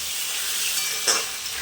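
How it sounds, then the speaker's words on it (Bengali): Potatoes with turmeric and salt fry in hot oil over a medium flame, a close, steady hiss with one brief louder spatter partway through and no speech. "এবারে গ্যাসের ফ্লেমটা মিডিয়ামে রেখে আলুগুলো একটু ভালো করে ভেজে নিতে হবে"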